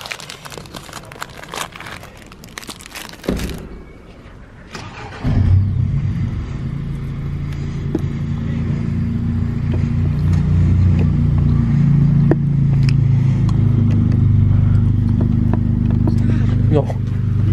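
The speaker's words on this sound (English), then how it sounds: "that's the real exhaust right there." A car's engine rumbles loud and close through the exhaust, rising into a steady, heavy drone after a few seconds of rustling and clatter.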